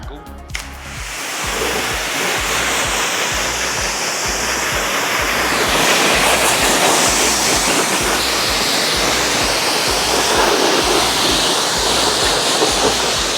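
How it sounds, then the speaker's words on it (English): Steady, loud rushing spray of water hitting a Harley-Davidson motorcycle with 70,000 miles, continuous hiss with a rhythmic low pulsing pump beneath it throughout. "we're gonna quickly spray it off some water"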